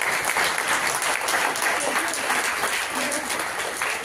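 An audience at a school annual function applauds loudly, a dense, sustained roar of clapping hands that continues steadily throughout, with faint voices mixed underneath.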